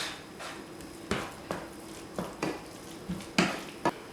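Spoon scraping and knocking in a bowl while horseradish and breadcrumbs are mixed, a series of irregular clinks and scrapes at close range, moderately quiet, with no voices.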